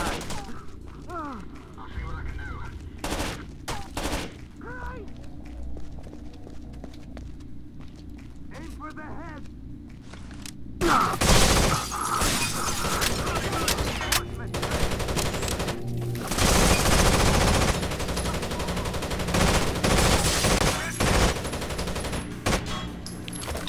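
Automatic gunfire in the co-op shooter Rainbow Six Vegas 2 comes in loud, dense bursts that swell in the second half, with people talking through the shooting.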